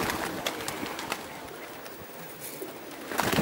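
Racing pigeons at a pigeon club festival coo softly amid a hissy outdoor background, with faint scattered calls and rustling, no talking.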